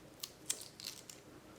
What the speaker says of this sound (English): You can always chop the ends off and peel the top layer off.